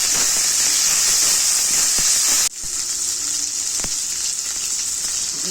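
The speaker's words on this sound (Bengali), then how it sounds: "টমেটো আর কাঁচা লঙ্কাটা কুচি করে দিলাম, এরপর দিয়ে দিচ্ছি কড়াইতে" Chopped tomato and green chilli hit hot oil with already-fried onion in a kadai for veg tadka. A loud, steady sizzle runs throughout, with a sudden dip and shift in the hiss as the ingredients go in, and no talking.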